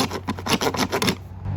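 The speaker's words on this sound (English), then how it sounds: "I'm going to trim off the end to clean it up because I had to cut that with a handsaw." Handsaw cutting PVC pipe, a quick series of about eight rasping back-and-forth strokes, close and loud, then stopping.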